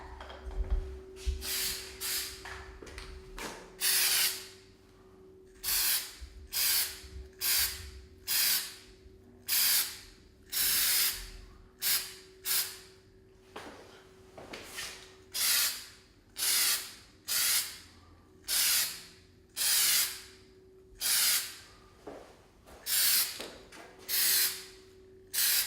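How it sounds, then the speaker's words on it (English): Bursts of primer sprayed from a can into an interior wall corner, roughly a dozen and a half short hissing blasts in an uneven rhythm, close and sharp, separated by brief quiet gaps and faint handling noise. "just gonna shake up my paint and get ready to show you guys how to spray the corner"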